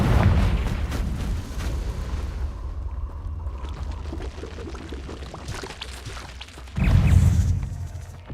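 The Confringo fire spell from Hogwarts Legacy blasts at the start with a rushing, crackling burst that fades into a rumbling tail, then a second loud explosive whoosh erupts near the end.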